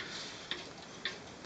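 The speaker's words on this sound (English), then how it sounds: "that's a beautiful example of a antique black forest cuckoo clock" An antique Black Forest cuckoo clock about 100 years old ticking, two crisp, evenly spaced ticks roughly half a second apart, close and clear over quiet room tone.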